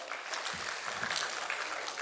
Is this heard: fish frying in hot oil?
no